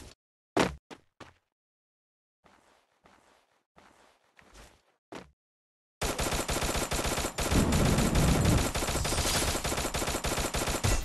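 Sustained automatic XM8 rifle fire in the Free Fire mobile game, a dense, loud, continuous burst filling the second half after a few sparse thumps and soft footstep-like taps.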